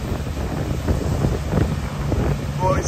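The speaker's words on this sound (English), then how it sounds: "the wind's blowing in" Wind blowing steadily across a farmyard where dusty wheat straw is being handled, a continuous broadband rush with gusty swells and no clear voice.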